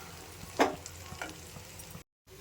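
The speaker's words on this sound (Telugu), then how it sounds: "కొంచెం బాగా కలుపుకోవాలి" Raw plantain fry being stirred in a pan with dried coconut and sesame powder, a soft sizzle underneath one sharp scrape of the spatula and a few lighter clinks, then a brief drop to silence.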